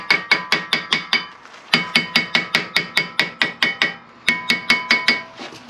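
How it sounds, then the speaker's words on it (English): A hammer taps the brake disc on a Nissan 350z to loosen it, in a rapid, loud, metallic series of strikes grouped into three bursts with short pauses, close by and with no talking. "now we're going to give the disc a little bit of a tappy tap"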